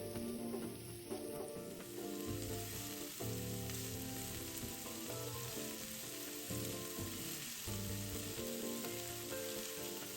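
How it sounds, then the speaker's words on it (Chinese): Diced onion frying in hot oil in a wok over medium heat, a steady close sizzle heard beneath background music that plays throughout, with no talking. "再倒入热油内爆香"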